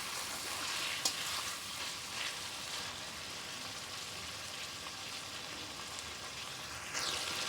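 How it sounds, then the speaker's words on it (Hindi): Chicken pieces fry steadily in hot oil with garlic and ginger paste for a Jalfrezi, a continuous close sizzle with a couple of brief clatters of stirring and no voices. "अभी ये ऑयल में भूने जा रहे हैं चिकन।"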